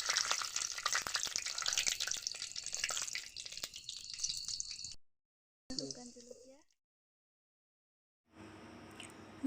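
Bay leaves fry in mustard oil in a wok over a wood fire, a brisk sizzle that crackles close for about five seconds, then cuts out with a brief burst and a quieter later stretch.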